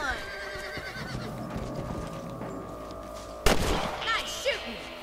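Horses whinny and hooves clop before one loud, sudden gunshot rings out while hunting rabbits in the Western video game Red Dead Redemption, with the echo and horse noises continuing after.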